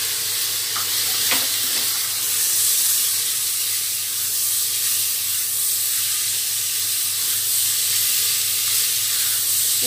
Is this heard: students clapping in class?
no